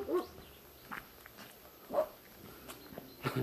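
Dogs along the Via de la Plata pilgrim route give a few scattered, fairly distant barks and yelps with quiet gaps between them, mixed with soft footsteps on an outdoor path.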